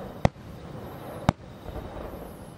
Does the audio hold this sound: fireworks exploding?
yes